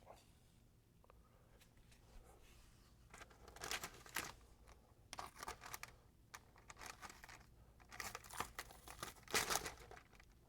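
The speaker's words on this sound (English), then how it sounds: "Let's peel this tape, see what it looks like." Masking tape is peeled off a freshly painted Toyota 4Runner body after a second coat, giving quiet bursts of crinkling and tearing between pauses, fairly close.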